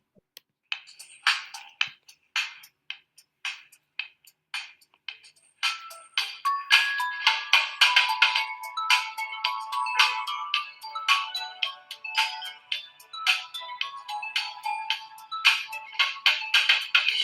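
Tinkly music-box style Christmas melody plays back from a small speaker during an online Sunday school, starting sparse and then filling in with bright, plucked tones.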